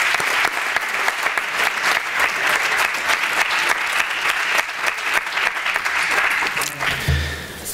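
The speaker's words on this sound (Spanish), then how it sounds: "Un aplauso para ellos." Sustained audience applause at a university debate final, dense and steady clapping filling the room for several seconds before tapering off near the end.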